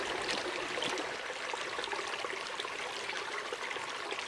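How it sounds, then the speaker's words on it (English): Creek water trickles and gushes steadily as a water filter is back flushed outdoors in Dolly Sods, West Virginia, a continuous close splashing flow with no talk. "So now we've back flushed it."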